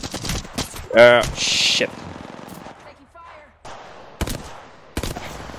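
Gunfire in an Apex Legends firefight: several sharp shots and a short rapid burst crack out between stretches of quieter moments, loud and close, with players talking over the shooting.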